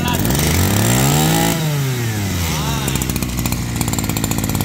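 A used Japanese four-stroke grass cutter engine runs loud and close, its pitch sweeping up and down as the throttle is worked, then settling into a steady buzzing idle with rapid firing pulses.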